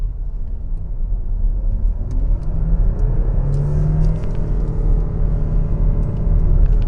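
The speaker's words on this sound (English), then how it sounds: "just listen to how quiet this engine is" A Porsche Macan S Diesel engine's low rumble rising in pitch as it accelerates, shifting gears along the way, steady and fairly loud from inside the car.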